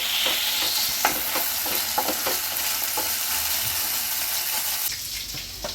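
Ginger garlic paste fries in a pan with a steady, close sizzle, punctuated by regular scrapes and taps of the spatula as it is stirred.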